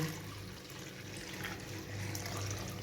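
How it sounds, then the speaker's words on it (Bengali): Hot water is poured onto washed biuli (urad) lentils in a pot, a faint, continuous trickle and splash that is quiet and close, with no speech. "এবার আমি কিছুটা গরম জল করে রেখেছি এই গরম জলটা দিয়ে দেবো"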